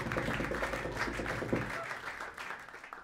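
Audience applause after a jazz band performance, a dense wash of clapping that is loud at first and then thins and fades.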